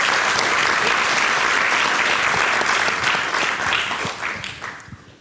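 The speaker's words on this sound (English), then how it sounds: "first, a big applause for Marlene." Conference audience applauding a speaker at the close of an annual conference, a dense burst of clapping from a hall crowd that fades out over the last seconds.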